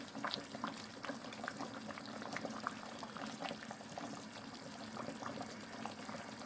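Chicken saka saka sauce simmering in a pot, a soft continuous bubbling with scattered small pops and blips, quiet and close, with no voices.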